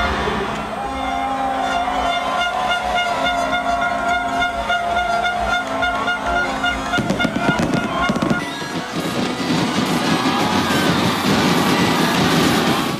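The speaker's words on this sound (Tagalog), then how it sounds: "Nagliwanag at nagningning ang kalangitan sa 10 minutong engrandeng fireworks display" Fireworks display at a New Year 2014 countdown event, a dense stream of bursts and crackles with music underneath, growing into a thick, continuous barrage in the second half.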